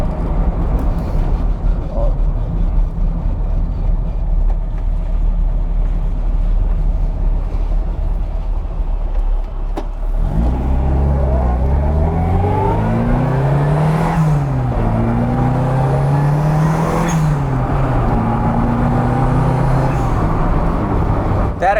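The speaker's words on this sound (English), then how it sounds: "That exhaust sounds really good." Turbocharged Mini Cooper cafe racer engine and exhaust, a low idle hum that breaks into hard acceleration with climbing, gear-changing engine tones and turbo whine over several shifts, loud and near.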